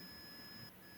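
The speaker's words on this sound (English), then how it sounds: "as you can see here, it is beeping." A continuity tester gives a thin, steady electronic tone while checking a desktop PC front panel wire, then the tone drops away near the end of the brief moment.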